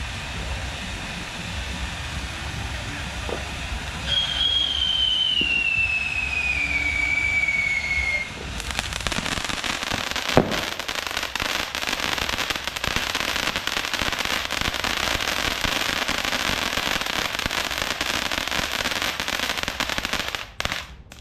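A rising whistle streaks upward, then a loud burst of crackling firecracker pops rattles on continuously, ending with a couple of sharp bangs.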